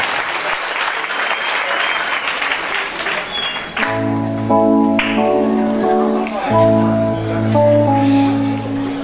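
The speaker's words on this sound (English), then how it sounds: "let's give our Grant Elementary music and art students a big round of applause" Applause for elementary school music and art students at an evening public schools board meeting, a steady wash of clapping from the audience that gives way to sustained tonal music partway through.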